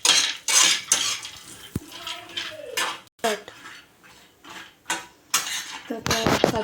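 Cashews and almonds roasting in ghee, stirred in a metal pan with a spoon, giving repeated scraping and clanking strokes in an uneven rhythm over a faint sizzle.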